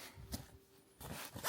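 A quick zipper pull closing a Peak Design packing cube, short and faint, with a few soft rasping strokes close by.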